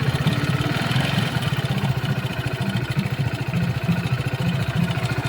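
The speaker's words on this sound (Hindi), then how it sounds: "हम इस बाइक को स्टार्ट करके आपको साउंड सुनाते हैं।" A Hero Splendor Plus BS6 motorcycle engine, noted as making an abnormal noise, runs close by with a steady, loud, rapid chugging idle throughout.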